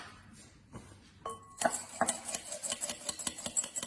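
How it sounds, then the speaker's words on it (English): A fork or whisk beats two eggs in a bowl, starting with a few light clinks, then settling into quick, steady rhythmic strokes, close and clear with no talking. "I'm going to whisk 2 eggs."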